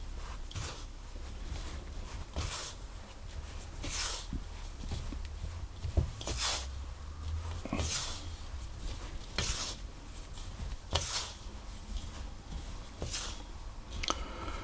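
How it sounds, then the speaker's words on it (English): A spoon or spatula stirs a ricotta scone mixture in a bowl, producing rhythmic scraping strokes about every second or so, close and moderately loud, with no talking. "I'm going to do that with a spoon or a spatula because I don't want to overwork this mixture"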